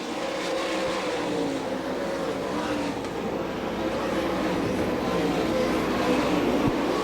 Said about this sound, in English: 2 laps remaining this time for your race leader, Byron Reed.